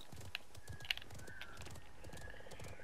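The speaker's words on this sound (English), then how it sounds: "This is a really slow horse, dude." A slow horse in the Realm Royale video game walks under fog, its hooves clip-clopping steadily at a quiet, even rhythm, with a couple of sharp clicks over a low ambient bed.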